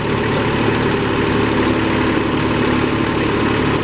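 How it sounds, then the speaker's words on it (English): A tractor engine idles in place, with a loud, steady, low rumbling drone and constant vibration throughout, close by and with no talking. "I've got the tractor sitting there running"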